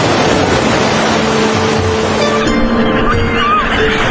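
Steady rush of Mediterranean surf and breaking waves on the coast of Cyprus fills the clip, loud and continuous, with a low engine-like drone underneath.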